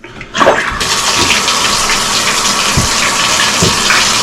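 Water gushes loudly and continuously down a cleared bathtub drain, starting with a sudden surge and then holding as a steady, close rushing flow with occasional low gurgles.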